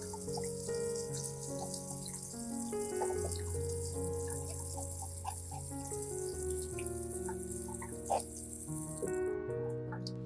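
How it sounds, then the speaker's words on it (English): A basin fills with water from a running tap, a steady bright splashing that stops near the end, under continuous background music. "Prepare a basin and fill it halfway with water, then add ice to make it very cold."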